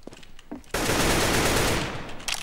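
A sustained automatic rifle spray in CS:GO, one continuous loud close burst of rapid fire lasting well over a second after a couple of quieter sounds.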